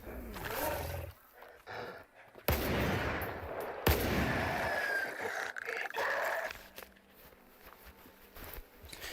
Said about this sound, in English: This is a Saiga. It's not an AK.